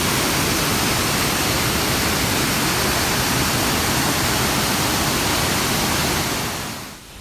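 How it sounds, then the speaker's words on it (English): Loud, roaring waterfall at Bushkill Falls, Pennsylvania, a constant broadband rush of falling water close by that holds steady before fading out at the very end. "As you can see from the videos, the waterfalls were beautiful and loud."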